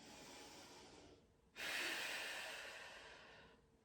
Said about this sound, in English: Just cool the breath down by breathing deeply